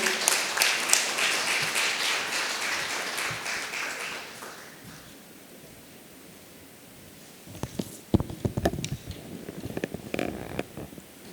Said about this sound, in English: A huge round of applause for Shri Raman.